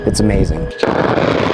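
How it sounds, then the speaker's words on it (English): An A-10 Thunderbolt II Warthog's gun fires a loud, rapid burst that rips out alone, followed by a rolling echo from the sky while someone speaks over the tail. "You hear it first when it fires, and then you hear it echo from the gun in the sky."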